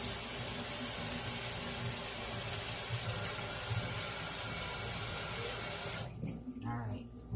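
Tap water runs steadily into a sink while collard greens are rinsed under it, a loud continuous splashing rush that cuts off near the end, followed by a little handling noise and a faint voice.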